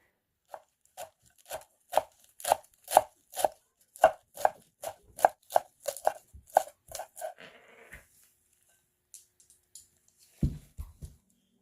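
Rapid, steady knife chops strike a cutting board about twenty times in quick rhythm, cutting vegetables, then stop, followed by quiet rustling and a few soft knocks.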